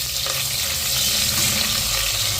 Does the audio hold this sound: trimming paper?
no